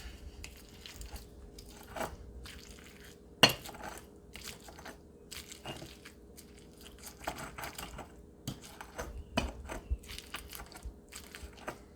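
Cooked tomatillos crushed in a stone molcajete for green salsa, heard as faint, sparse grinding and pressing knocks spread out over a quiet background, with one sharper knock partway through.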